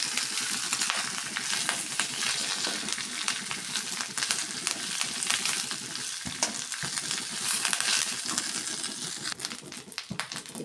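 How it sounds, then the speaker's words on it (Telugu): Curry leaves fry slowly in oil in a pan until crisp, giving a dense, steady sizzle with crackling pops and occasional stirring scrapes, close and continuous without talk. "కరివేపాకు, స్లోగా క్రిస్పీగా ఫ్రై చేసుకోవాలి."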